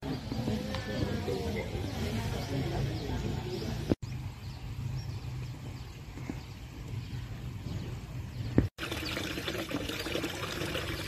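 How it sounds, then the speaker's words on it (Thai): Hot spring water flows in Betong, Yala, making a steady rushing, pouring stream that fills the whole clip at close range. Faint bird calls sit in the background. "น้ำพุร้อนแหล่งใหญ่ก็จะไหลที่ทางนี้นะครับ"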